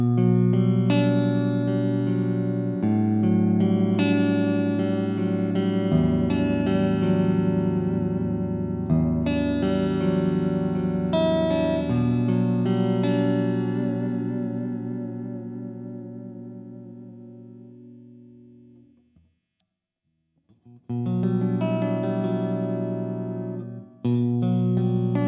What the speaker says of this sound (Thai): เดี๋ยวให้น้องไอลองเทสซาวแบบทุก ๆปิกอัพเลยว่าเป็นยังไงบ้างนะครับ